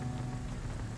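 Steady rain falls in the video game Vampyr as a soft, even patter that holds quietly through the whole moment with no voices.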